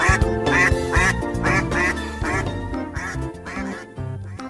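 A toy duck-goose quacking in a rapid series of nasal, honking quacks, loud and close, with brief pauses between bursts, and no talking over it.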